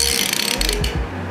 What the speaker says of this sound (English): It's a Craftsman 72 tooth Lowe's ratchet.